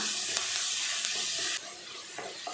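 Crushed garlic sautéing with onion and tomato in a pan, a steady close sizzle with soft stirring scrapes, easing slightly quieter partway through.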